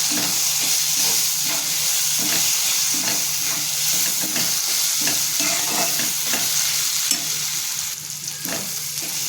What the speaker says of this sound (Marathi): हे छान परतून घेणार आहे